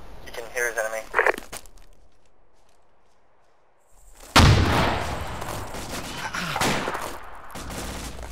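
Enemy gunfire in a military video game, Shack Tactical – Gothic Line, arrives as a sudden loud burst of shots after a quiet stretch, followed by rolling echoing fire, with voices talking over it at the start.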